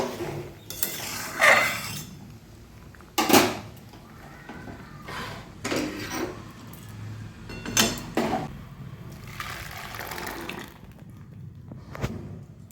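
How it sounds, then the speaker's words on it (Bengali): Dishes are washed in a kitchen sink: intermittent clinks and clatters of pots and plates over a low background rush, in separate bursts spread across the stretch, with no speech. "অনেকগুলো বাসন হয়েছিল, ধুয়ে নিলাম"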